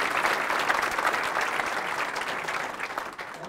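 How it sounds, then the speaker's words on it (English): Audience applause after a conference talk on product strategy: a dense, continuous wash of many hands clapping at a steady level, fading slightly toward the end, with no voices over it. "so let's give Marty a round of applause"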